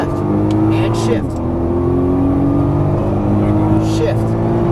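A Nissan GT-R on the Las Vegas Motor Speedway track, engine droning loud and close with a rising rev after a gear change and a brief dip around the shift, while an instructor talks over it.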